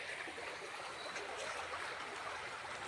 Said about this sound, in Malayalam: ഞങ്ങളുടെ നാട്ടിൽ കൂടെ ഒഴുകി പോകുന്ന ഒരു തോട്.